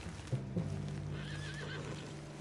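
A horse in Red Dead Redemption 2 whinnies in a quick rising-and-falling neigh over a low ambient background, with a couple of soft thuds just before.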